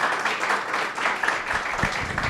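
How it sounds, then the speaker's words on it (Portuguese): Lecture audience applauding a guest, a continuous wash of clapping from a hall full of people, steady and moderately loud across the short stretch. "Aqui peço também um aplauso pela sua presença."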